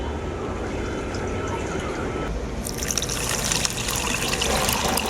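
Water is poured into a lemon chocolate sherbet with sugar, giving a steady liquid wash that grows into a brighter, fuller splashing pour about halfway through, close by and without voices.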